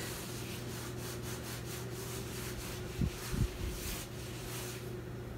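A wet rag rubbed over the top of a NewAir fridge gives a faint, steady scrubbing hiss with a couple of brief louder knocks partway through, over a low constant hum.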